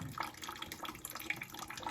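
Rainwater splashes and trickles steadily as it pours out of a Land Rover Freelander 1 footwell and drains away, close by with no voices.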